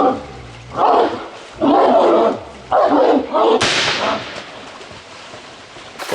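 A bailing dog on a boar hunt gives several loud, rough barks in quick bursts, followed by a sharp, bright crack and quieter background noise.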